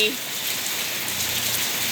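Heavy rain pours steadily during a storm in Wang Krachae, Trat province, an even, dense hiss of drops on surfaces close by, with a brief faint voice at the very start.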